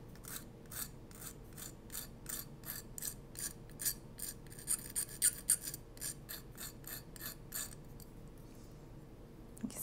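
Repeated short rasping strokes of a diamond file or fine sandpaper smoothing rough edges on a copper-covered brass cuff, quiet and close, in a regular back-and-forth rhythm that fades near the end.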